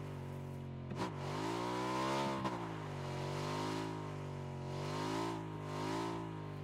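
A damaged, smoking motorbike engine in PUBG runs steadily, a droning hum rising and falling in pitch as it revs, with a couple of brief knocks.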